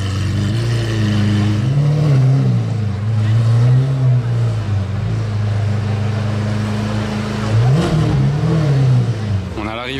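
A Pagani Huayra Roadster with a modified exhaust idles loudly and blips its throttle in short rising revs, the engine rumble continuous and close under a crowd's background chatter.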